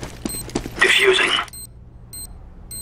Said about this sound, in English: Diffusing the bomb.